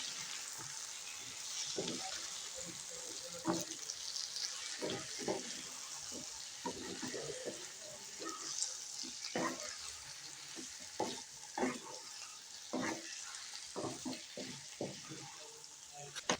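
Potato and brinjal curry sizzles in a pan while a spoon scrapes and stirs in irregular strokes, steady and close.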